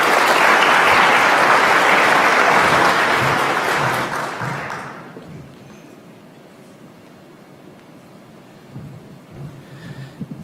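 Loud conference audience applause fills a large hall, a dense roar of clapping that fades out abruptly about halfway through, leaving quiet room tone with a few scattered claps.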